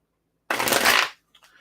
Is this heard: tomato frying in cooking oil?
no